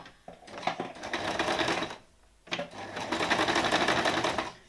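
A domestic sewing machine stitches a backstitch on a dress, running in two rapid mechanical bursts of about two seconds each with a short pause between, close and clear, with a few handling clicks.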